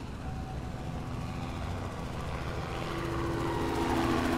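Helicopter rotor drone in the survival horror game Chordosis, a steady low thrumming that grows slightly louder over the few seconds, heard alone without talk.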